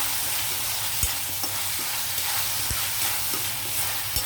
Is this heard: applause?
no